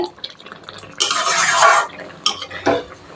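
Pointed gourd curry with green chilli paste being stirred in a pan over high heat, with scraping and clattering bursts of the spatula against the metal, a few separate strokes in quick succession.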